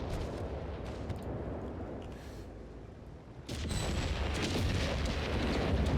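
Artillery fire thunders in a Company of Heroes 3 battle on the L'Aquila map, a dense rumble of booms and distant blasts that swells louder in the second half, with faint scattered gunfire layered over it.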